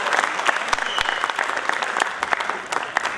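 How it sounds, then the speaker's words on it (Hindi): A comedy theatre audience claps loudly and continuously, a dense patter of many hands with a few sharper individual claps standing out. "जोरदार तालियां उनके लिए भी।"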